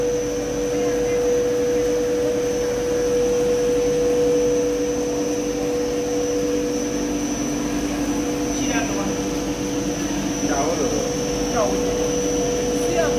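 A PE plastic film blowing extruder runs with its take-up unit motor set by inverter to 22.8 Hz, giving a steady loud mechanical hum and whine with strong tonal drones, a constant industrial bed with a few brief squeaks near the end.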